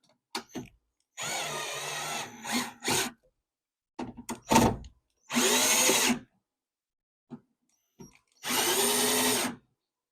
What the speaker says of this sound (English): Tighten the screws.